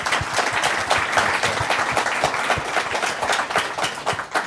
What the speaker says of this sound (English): ladies and gentlemen, a round of applause for our panel.